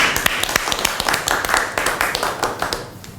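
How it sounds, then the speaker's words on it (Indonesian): Sharp, distinct hand claps from a small group ring out at a community outreach event on family medicinal gardens run by Universitas Esa Unggul students, uneven and close, fading slightly toward the end. "Apa kan tepuk tangan terus?"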